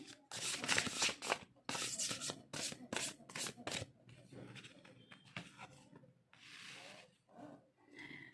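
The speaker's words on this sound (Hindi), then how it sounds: "पहले हम कार्ड्स निकाल लेते हैं।" Tarot cards shuffled and drawn by hand, giving a run of dry rubbing, riffling bursts close up that thin into softer slides and taps.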